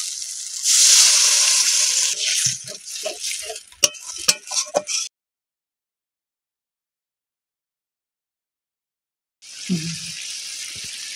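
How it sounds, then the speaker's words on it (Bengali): Water hits hot fried spice paste for a wax gourd curry, setting off a loud burst of sizzling and spitting with a few clinks, then a silent gap before a softer renewed sizzle, with no talking. "দিয়ে দেবো অল্প করে অল্প একটু জল"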